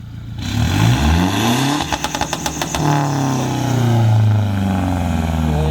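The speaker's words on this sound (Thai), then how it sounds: "ฟังเสียงเบิ้ลตัดครับ" A tuned Toyota Hilux Revo pickup's diesel engine revs hard and bounces off the rev limiter in a rapid stutter, then settles back into a throaty, uneven idle. Loud and close, with no voices.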